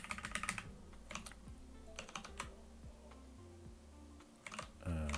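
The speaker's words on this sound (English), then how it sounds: "So now I can type in" Typing on a computer keyboard, a string of quick, close clicks and key taps in uneven bursts, quiet and without talk.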